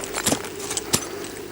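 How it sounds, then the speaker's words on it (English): Ice screw being placed during an ice climb: a few short metallic clinks and scrapes, close and fairly sharp, separated by brief pauses, with no talking. "I'm going to put a screw."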